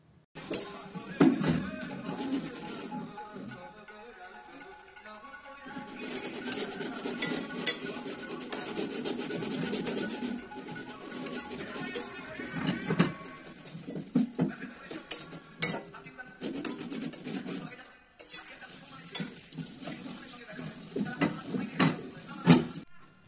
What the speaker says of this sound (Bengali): চাউমিনটা কিন্তু ভাজা হয়ে গেছে, এই যে এর মধ্যে এবার ডিম দিয়ে দিলাম